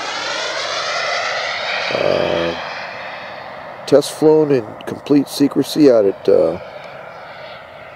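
A Bell P-59 Airacomet, America's first jet, passes with a whining engine tone that slides down in pitch as it recedes, then someone speaks over the fading rumble.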